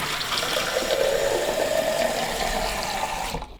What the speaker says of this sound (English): So I'm just going to go over to the sink and top this up.